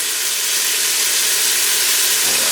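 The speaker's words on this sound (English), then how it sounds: "We're about to fry this and cook this down for about 5 minutes." Black mole blend frying in avocado oil, a loud, steady, close sizzle and hiss that continues unbroken, with no talking.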